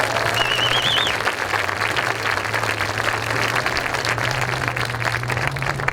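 Steady applause from a community night audience honoring a high school marching band, continuous dense clapping with a brief whistle near the start and a low steady hum underneath.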